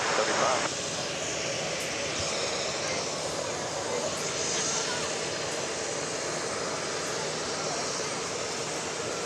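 A Southwest jet airliner taking off from runway 13 left at Dallas Love Field, a loud steady engine roar that fills the scene, with voices talking over it.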